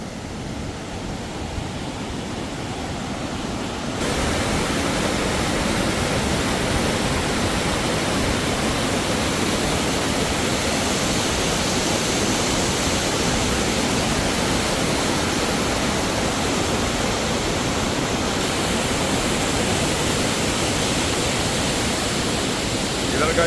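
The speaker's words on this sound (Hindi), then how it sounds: "वो झरना देखो यहीं से गाइस आता है जो आपको मैं दिखा रहा था" A waterfall near Harsil village in Uttarakhand gives off a loud, steady roar of rushing water that grows fuller after a few seconds and holds constant, with nothing else heard over it.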